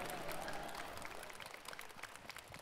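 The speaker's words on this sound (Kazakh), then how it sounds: "Шапалақтарыңыз, құрметті достар." Brief, faint applause from a studio audience at a TV talk show greeting a band, a short patter of many hands clapping that thins out within a few seconds.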